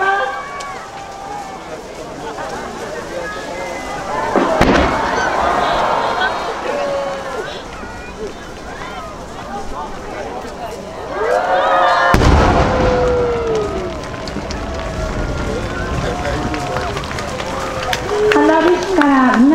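Large fireworks display at the Kumano fireworks festival in Japan, booming and crackling outdoors, with two big bursts among ongoing pops, while a crowd cheers and voices talk over it.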